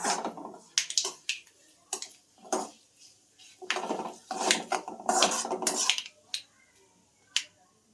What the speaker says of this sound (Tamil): நெக்ஸ்ட் லைட்டா கிளறுதாங்க.